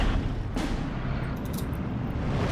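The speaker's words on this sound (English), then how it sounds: "the other Martyr getting hit by artillery" Artillery fire hitting units in the WWII strategy game Steel Division 2, a dense, continuous rumble of booms and blasts with a sharper impact about half a second in, loud and steady with no talk.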